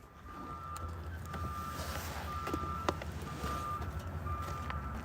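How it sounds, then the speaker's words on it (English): Steady, evenly spaced reversing beeps from a propane delivery truck backing up nearby, over a low engine rumble and some wind. "Sounds like somebody's getting some propane delivered."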